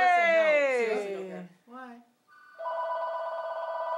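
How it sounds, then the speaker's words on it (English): A landline telephone rings steadily at a home birthday party, its electronic ring continuing for a couple of seconds after a stretch of excited talking and singing voices. "Oh, who's calling during the birthday party?"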